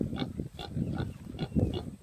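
A pig being chased on a farm grunts several times in quick, uneven bursts, near and moderately loud.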